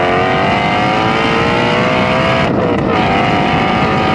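A Shelby GT350R's exhaust roars loudly and steadily up close, the engine holding a high, throaty rev with a brief dip near the end.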